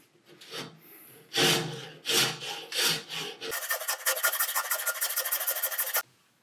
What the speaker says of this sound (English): with one of your heavier files or rasps so that you can remove material quickly